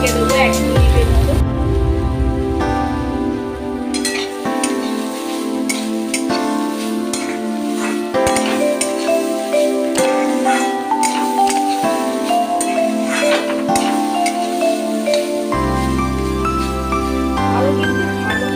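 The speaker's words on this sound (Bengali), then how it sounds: "আরো কিন্তু ভালো করে সুন্দর করে ভাজতে হবে।" Chopped banana stem fries in a pan with a steady sizzle. A utensil stirs it in bursts with repeated scraping and clinking, and a voice speaks over the cooking.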